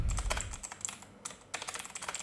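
Quick, light keystrokes on a computer keyboard, typed in short bursts with a brief pause midway, close and quiet with no talking.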